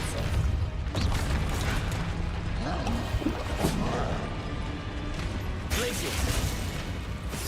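A Depulso spell cast in the video game Hogwarts Legacy, a dense burst of game combat noise with impacts and rumble running throughout, loud and busy with a sharper hit near the end.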